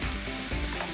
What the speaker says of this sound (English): because now we're going to throw in the meatballs.